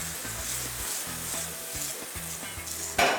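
Spaghetti pasta cooking in olive oil in a skillet, a steady close hiss and sizzle with soft rhythmic stirring taps, ending in a brief louder clatter.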